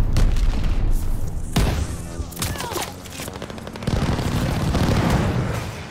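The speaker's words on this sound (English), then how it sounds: "Friendly sending an airstrike." Call of Duty: Vanguard multiplayer combat: an airstrike brings heavy booming explosions mixed with rapid gunfire, loud and continuous, with a brief lull before the barrage swells again.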